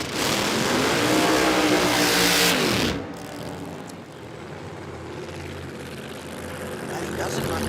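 A big Camaro drag car roars at full throttle during a drag racing championship round, a loud, dense engine blast that cuts off abruptly after about three seconds, followed by rumbling crowd and track ambience that builds again.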